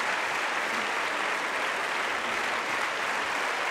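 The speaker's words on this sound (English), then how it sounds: "A well-deserved and a large and a warm round of applause from the crowd here" A badminton crowd at the French International applauds a mixed doubles victory, a dense, even wash of clapping that holds steady and loud throughout.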